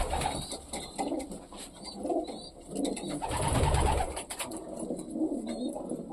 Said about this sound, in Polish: patrzcie, te gołębie idą